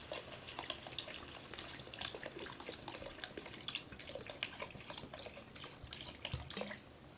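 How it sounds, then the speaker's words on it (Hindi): Water poured into a cooking pot holding soaked rice and peas for matar pulao, a steady, close splashing trickle with small bubbling and dripping bursts throughout, with no talking. "अब इसमें 600 ml पानी डाल देंगे"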